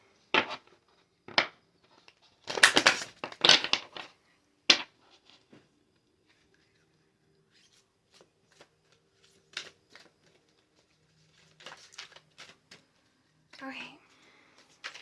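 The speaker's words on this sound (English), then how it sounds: "I'm gonna shuffle one more time." Oracle cards are shuffled by hand in a quiet room, giving soft, close riffling and slapping bursts spaced irregularly, with a few faint taps between them.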